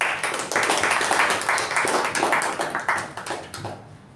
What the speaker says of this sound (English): let's give us a huge round of applause for our acting sergeant at arms